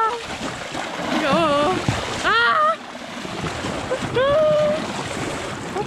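Lake water waves wash and splash over a flooded trail beside Lake Garda, a continuous close surge with splashes while excited voices shout over it.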